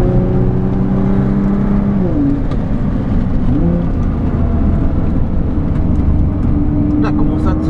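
Nissan GT-R engine droning and shifting pitch during a passenger ride on the road, steady and loud from inside the cabin, with rising and falling revs while people talk over it.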